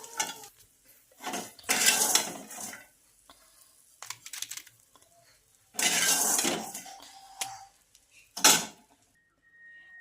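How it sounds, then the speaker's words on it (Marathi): Fried green chili tempering tipped onto puffed rice for chivda, then mixed in a metal pan, bursts of scraping, clattering utensil sounds in separate clusters with quiet gaps between. "तर आता हे सर्व आपण मुरमुऱ्यावर टाकून घेऊया।"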